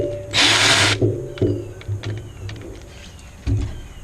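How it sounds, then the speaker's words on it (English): Power-tool whirring and ratcheting as 10 millimeter bolts come out of the fender cover on a CFMoto UForce 1000XL side-by-side, one loud buzzing burst followed by short clicks, clanks and brief ratchet bursts up close. "so now we'll take out these 10 millimeter bolts that go all around this"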